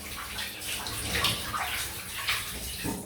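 Cold running water rinses soap away, a steady broadband splashing and gurgling stream that stays continuous and fairly close throughout, with no talk.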